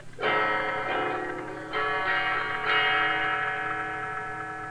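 An electric guitar rings through an amplified effect, a few strummed chords sustaining with a shimmering, slightly distorted tone, played alone.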